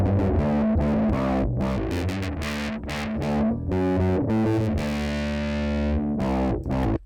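A heavily distorted, fuzzy bass guitar through a Big Muff-style fuzz pedal plays a thick, sustained riff, loud and saturated throughout with a buzzing, woolly edge.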